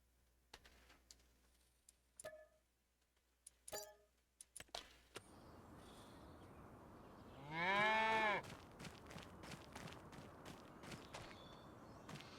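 A single cow moos in the farm video game Krustoo Farms, a drawn-out low call in the middle of the clip, among scattered ticks, clicks and footstep-like taps, with no one speaking.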